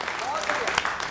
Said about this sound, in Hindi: आपकी जोरदार तालियां उठे हिमानी के लिए